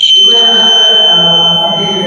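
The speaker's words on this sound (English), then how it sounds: "smoke detector." A battery-powered smoke detector at a science fair sounds loud and close, a steady high-pitched electronic alarm tone held throughout.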